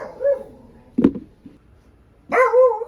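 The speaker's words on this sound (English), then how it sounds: "What good barks, Libby?" A dog gives a few short barks and whines nearby: a brief yip, a sharp bark, then a louder whiny bark after a pause, with quiet gaps between.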